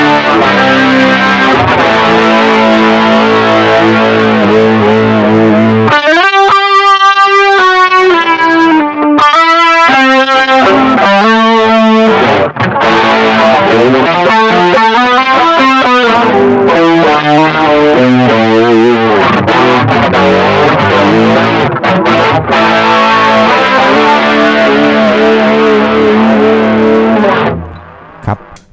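An electric guitar through distortion and a Kokko Chorus pedal plays chords and single-note lines continuously with a shimmering chorus effect, loud and upfront, with no talking.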